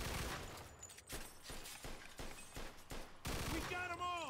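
Gunfire from the video game Mafia II: Definitive Edition, a loud sustained fusillade of rapid repeated shots in several bursts, ending in ringing, whining tones.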